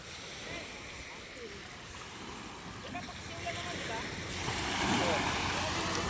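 Ocean waves roll and wash along the shore at a fish terminal in Tanza, Cavite, a broad steady surf swelling louder toward the end, mixed with wind noise.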